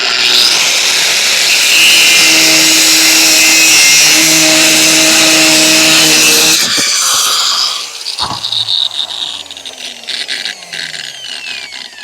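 A power tool cutting steel rebar to five-foot lengths during a steel shop build, a loud, sustained high-pitched grinding whine that stops abruptly after about seven seconds, followed by a metallic clank and fading ring.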